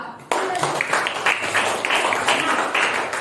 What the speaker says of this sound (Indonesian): Kita beri tepuk tangan untuk kelompok 3 dan kelompok 4.